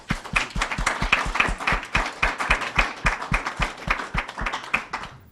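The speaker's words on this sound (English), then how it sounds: "what I'd love to do now is just give a huge round of applause" Audience applause at a development services forum, a fairly small group clapping briskly and steadily with distinct individual claps, close and fairly loud, tapering off at the end with no talking.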